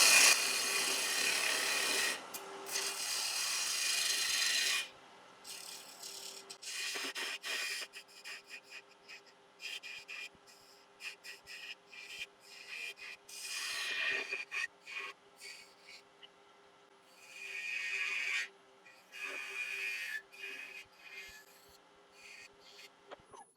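Woodturning gouge shaping the bead at the end of a large wooden ladle handle on a lathe, giving rough, rasping cuts in repeated bursts separated by short pauses, close and fairly loud with no talk.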